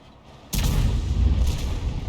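A tank cannon fires in World of Tanks, a single sudden heavy boom followed by a long rumbling roar that stays loud to the end.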